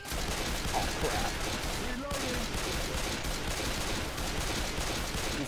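Rapid gunfire crackles in Left 4 Dead 2, dense bursts of shots rattling continuously under ongoing player chatter, with the guns sounding loud and close throughout.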